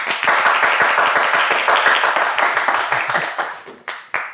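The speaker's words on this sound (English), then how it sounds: "Please clap harder, Andres." A small group claps loudly and quickly, a dense patter of hands that thins into a few scattered claps at the end.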